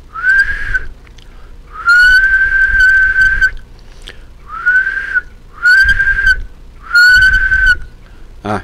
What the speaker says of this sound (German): Ich habe eben einen Pfeifton gemacht, mit dem Mund halt.